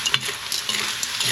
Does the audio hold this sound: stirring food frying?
yes